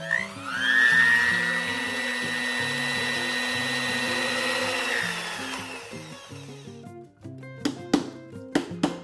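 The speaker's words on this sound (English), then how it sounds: "Time to grind this in a fine and smooth powder." Electric grinder jar whirring as it grinds a rasam spice mix into fine powder, a loud rising motor whine for about six seconds that cuts off, followed by several sharp taps on the jar.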